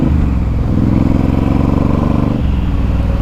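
A Suzuki M109R cruiser motorcycle's big V-twin engine rumbling loudly up close, a deep throbbing idle that swells and pulses steadily before dropping back, with no talk over it.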